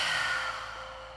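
A deep breath out through the open mouth during a yoga workout, one long airy exhale that fades steadily, close and fairly loud.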